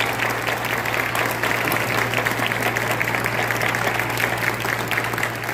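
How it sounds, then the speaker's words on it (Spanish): Steady, dense applause fills a press presentation of the biographical series about Pedro Infante, continuous and fairly loud with no breaks, with a low steady hum running beneath it. "Así que un aplauso para todos."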